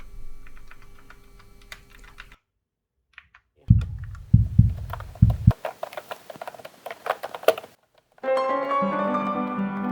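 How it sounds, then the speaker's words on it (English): Fantech MK872 Optilite mechanical keyboard, first a few soft taps, then several heavy thumps, then a run of rapid clicky keystrokes near and clear, with a steady tone at the end. "I will also try showing how responsive this keyboard is"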